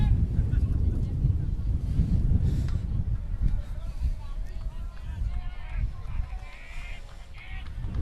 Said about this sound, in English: A very windy day at Mustang Field on the southeast side of Apopka, Florida.